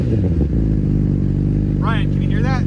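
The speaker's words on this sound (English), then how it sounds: "I'll give it a little rev." A sport motorcycle engine runs loud and close with a dense, throbbing drone that holds fairly steady rather than climbing, while a voice briefly speaks over it near the end.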